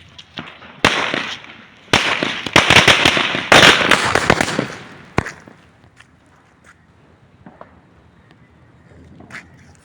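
A rapid string of sharp Diwali firecracker bangs crackles loudly for several seconds, then stops, leaving a few scattered pops and quiet background.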